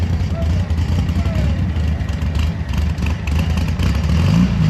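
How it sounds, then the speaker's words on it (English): An air-cooled Volkswagen engine idles with a steady, rumbling low chug, loud and close, a continuous drone throughout, at an outdoor car show block party. "Listen to that little air-cooled motor purr."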